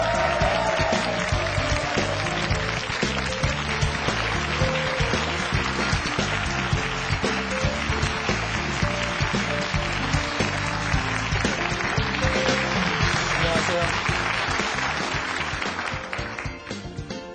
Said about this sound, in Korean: 손님을 뜨거운 박수로 맞이해 주십시오.